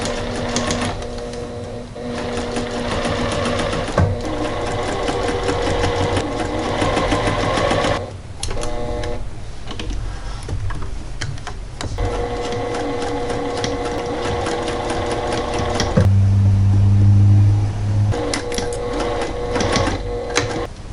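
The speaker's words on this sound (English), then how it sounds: "I'm just applying the 2 rows of long stitches so I can go ahead and start the" A sewing machine stitches two long rows for side shirring, running loud and close with a fast, even mechanical chatter. It stops briefly now and then before restarting, and toward the end a low motor hum swells.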